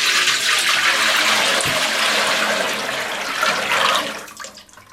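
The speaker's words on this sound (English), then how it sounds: "Just pour the glaze across it." Ceramic glaze pours steadily into a bucket, a loud continuous splashing rush that carries on for several seconds before tapering off, with no voices.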